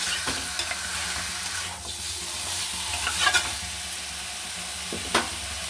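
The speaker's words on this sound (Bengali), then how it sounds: "কাঁচা গন্ধটা যাতে না থাকে ওই জন্য মশলাটা আগে আমি একটু ভেজে নিলাম।" Spice paste for chicken curry frying in a pan, a continuous close sizzle with stirring scrapes and a few sharper spatula knocks, no one speaking.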